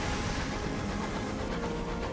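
The airship train engine in the Sunless Skies video game gives a dense, steady rumbling roar with hissing texture, continuous and loud throughout, without talk.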